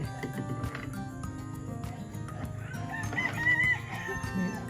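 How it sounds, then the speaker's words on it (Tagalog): A rooster crows loudly over a busy farmyard, with other chickens clucking around it and steady background noise. "Malaki yung manok dito mga kababayan."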